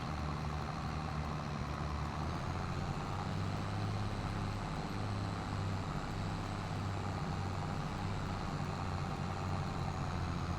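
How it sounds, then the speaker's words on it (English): A tractor engine labors uphill in Farming Simulator 22, a steady low droning rumble with a throbbing, pulsing tone that holds loud and continuous throughout, no talk over it. "Oh, come on, tractor, you can do it."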